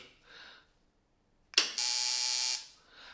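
A loud, steady high-pitched electrical buzz starts abruptly and holds for about a second before cutting off, with faint murmuring before and after.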